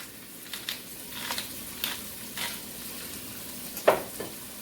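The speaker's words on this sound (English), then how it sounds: "Then you just want to stir this around until it becomes soft and translucent" Minced aromatics with salt, pepper, lemon zest and lemon juice fry in a pan while being stirred, giving a steady soft sizzle broken by several brief scraping strokes and one louder clack near the end, with no talking.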